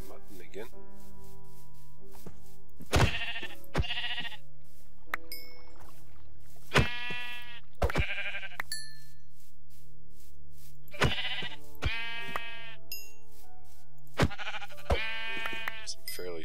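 Several sheep bleat in short wavering calls, spaced apart, with a few clicks and a low steady hum between them, in a Minecraft-style video game.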